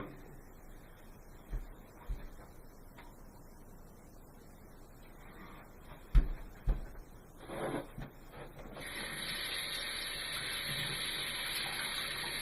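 Tap water running into a bowl, a steady hiss that starts partway through after a few knocks and clatters, continuing loud and close to the end.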